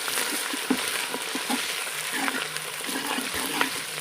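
Ginger paste frying with browned onions in a pot for chicken biryani, giving a steady, close-up sizzle and hiss with occasional soft stirring scrapes.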